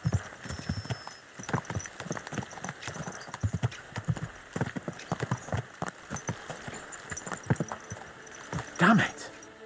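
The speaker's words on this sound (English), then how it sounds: "Let's really spur these horses on, eh?" Rapid hoofbeats clatter in a steady galloping rhythm, with a horse whinnying near the end over faint background sound, from the video game Kingdom Come: Deliverance II.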